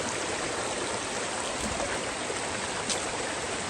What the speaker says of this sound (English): I made it down to the Pigeon River.